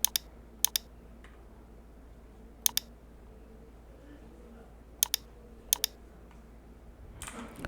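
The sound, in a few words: clicking the search box and typing on a computer keyboard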